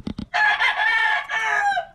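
An Asil Cobra hen, a small purebred bird just starting to lay, gives two short clucks and then a drawn-out, strained call that rises and falls. It is close and clear with no voices.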